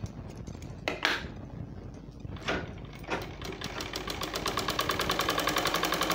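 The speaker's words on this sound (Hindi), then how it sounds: "इसको हम इस तरीके से सिलाई लगा देंगे" Sewing machine stitching a seam on a small girl's Patiala salwar, starting after a few clanks and settling into a steady, fast rhythmic whirr that grows louder toward the end.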